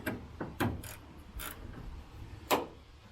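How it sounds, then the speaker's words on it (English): A wrench ratchets on taillight bolts of a Nissan Frontier in several short, irregular clicks and rasps, close and fairly quiet. "A couple turns with the wrench and they're finger tight."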